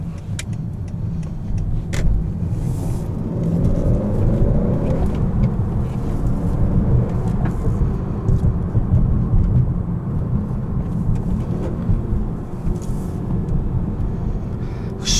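A 2018 Honda Accord Sport with the 2.0T engine and manual gearbox drones from inside the cabin while driving, its steady engine rumble rising and falling with revs, alone with no talk.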